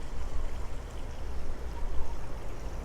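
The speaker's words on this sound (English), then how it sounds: "the hot tub does have a waterfall that cascades into the pool" A hot tub waterfall at a Maui beachfront home spills into the pool below, a steady close rushing splash of falling water with no break, alone without voices.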